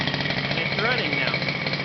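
A small two-stroke gasoline engine runs steadily in an FS Racing King Kong 5th-scale RC car, a loud continuous buzzing drone close by, with a brief rising rev in the middle.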